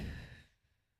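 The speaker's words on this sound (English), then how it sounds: "Deep breath." A single deep breath, drawn in and let out in one soft, airy rush lasting about a second, close to the microphone and fairly quiet, with no talking.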